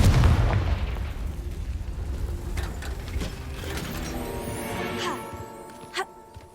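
Confringo blasting curse explosions in the video game Hogwarts Legacy: a loud low boom opening the clip, rumbling and decaying over several seconds, followed by a sharper burst near the end amid game effects.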